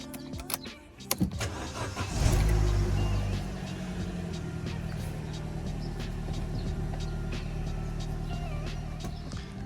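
A Vauxhall Corsa engine cranks and starts after a spark plug and coil pack change, a few clicks then a loud catch that settles into a steady, close idle.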